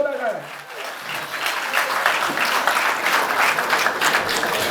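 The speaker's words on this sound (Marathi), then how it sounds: "जोरदार टाळ्या" Loud, sustained applause from a college audience at a road safety awareness event, dense clapping that builds after a brief quiet start, with a voice talking over it.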